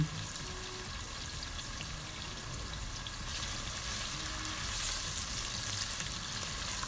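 Tomatoes fry with leeks and carrots in a pan, giving a steady, soft sizzle with occasional stirring sounds and no talk over it.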